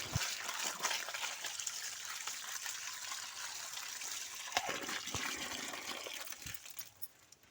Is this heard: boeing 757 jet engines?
no